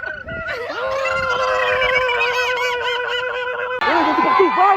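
A young person imitates a chicken with a long, loud, honking squawk that wavers in pitch and breaks into a second cackling burst near the end, close and outdoors.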